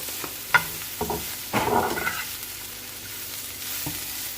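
Spring roll filling with salt being stirred in a frying pan, a faint background sizzle with a few scraping spoon strokes and one short louder burst of mixing, no talk.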